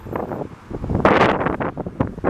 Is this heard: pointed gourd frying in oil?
no